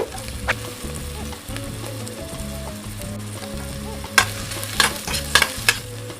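Onion and ginger sauté in a little coconut oil, a close, steady sizzle with a low rhythmic scraping from stirring and a few sharp clinks of a utensil toward the end.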